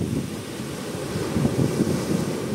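Ocean waves washing onto the shore on a bright full-moon night, roughly two to three feet high, a steady low rolling wash with gusty wind noise over the microphone and no voices.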